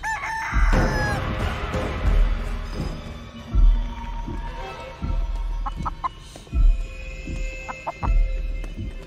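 A giant chicken in the indie horror game Chicken Feet clucks and crows through a steady thudding, heartbeat-like pulse, fairly loud and close, with no talking.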